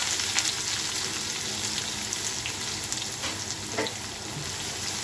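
Small shallots and garlic, with curry leaves, sautéing in oil for a spicy chili chutney. The sizzle is steady and crackling, with occasional stirring taps, heard close up and moderately quiet.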